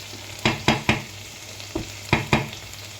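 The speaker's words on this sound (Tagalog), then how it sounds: "Pag okay na yung mga lasa, igigina, iginigisa na siya" Seasoned bamboo shoots (labong) sautéing in a pan: six sharp stirring scrapes and clatters, three in quick succession then a pause and three more, over a faint steady sizzle, close by and without speech.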